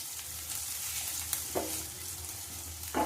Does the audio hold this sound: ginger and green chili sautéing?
yes